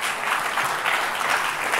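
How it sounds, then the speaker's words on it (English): An audience at a health event applauds, a short, loud, dense burst of clapping that holds steady from start to finish. "So give yourself a big round of applause for that."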